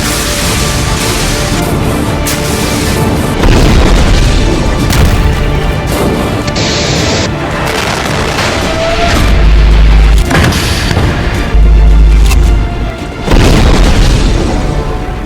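Explosions from Hezbollah attacks on Israeli tanks, heavy deep booms and crashes repeating through a loud, dense wash of battle noise with no talking.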